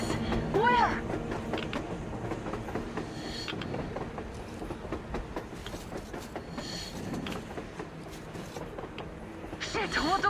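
A train passes on the surface in the video game Metro Exodus, a steady rolling rumble with rattling, clanking and a few high squeals throughout, heard under excited talking.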